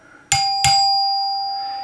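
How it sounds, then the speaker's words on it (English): NuTone LA43 Renaissance lighted door chime with plastic body, twin resonating chambers and two tone bars struck by solenoid plungers, ringing its two-note front-door pattern: two sharp bright strikes close together, then a long ringing tone that fades slowly. "and two solenoids with two plungers because it is a two-door chime"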